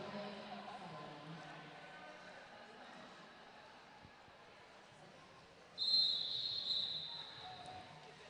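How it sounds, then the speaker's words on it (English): A referee's sharp, trilling rolling whistle ending a timeout cuts in near the end, rising over steady crowd murmur and lasting about two seconds before fading. "you hear the rolling whistle that ends the timeout"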